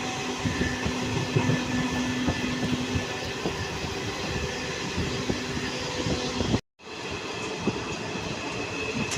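Jan Shatabdi Express 12075 running from Kozhikode toward Ernakulam, heard onboard as a continuous loud rumble of wheels and carriage noise with faint rattles, briefly cutting out near the end, no talking.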